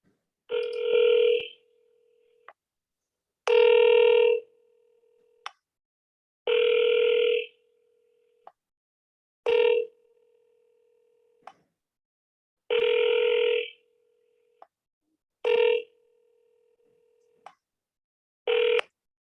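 Ringback tones of an outgoing phone call dialed to a 407 area code number, repeating in regular bursts about every three seconds with silent gaps and faint clicks between, clear and alone with no talking.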